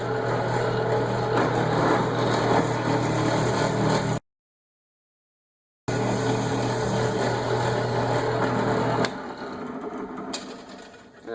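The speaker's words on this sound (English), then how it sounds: "we'll go ahead and drill through this piece" A power drill whines steadily at close range while boring through a piece of wood, cutting out for a moment, then resuming before winding down to a quieter hum.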